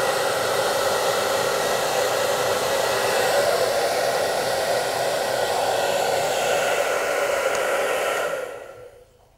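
A hair dryer blows steadily and close while drying a dwarf rabbit's fur after a bath, an even whooshing rush that runs for about eight seconds before it is switched off and fades out.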